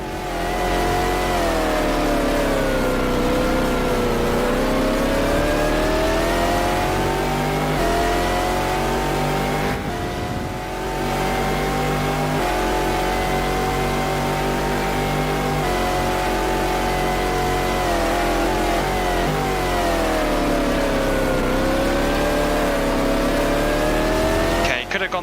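A Porsche race car in a video game racing sim runs a Le Mans qualifying lap, its loud engine climbing and falling in pitch through gear changes and corners for the whole run, with a brief lift near the middle.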